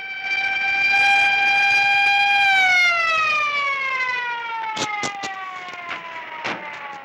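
A police siren holds a loud, steady wail, then slides downward in pitch as it winds down, with a few sharp knocks near the end.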